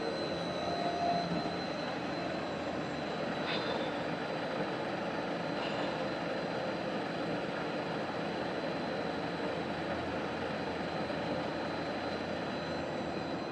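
A rotary kiln friction drive with a high-speed shaft at a hazardous medical solid waste incineration plant runs with a steady, fairly quiet mechanical hum and drone, unbroken from start to finish.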